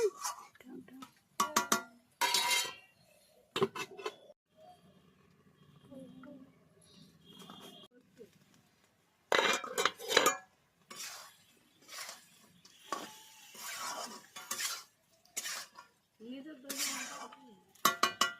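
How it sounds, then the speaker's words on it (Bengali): Spiced mutton with potato and papaya being stirred in a pot, giving intermittent scraping and clinking of a utensil against metal in short irregular bursts, with quiet gaps and faint sizzling between. "ভালো করে নেড়ে মশলা মাখিয়ে কিছুটা আমরা কষিয়ে নেব"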